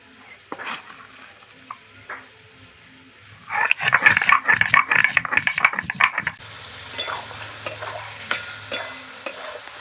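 Meat frying in oil in a pot, stirred with scraping clatter and sizzling bursts that build midway, near and fairly loud, with brief quieter stretches around them.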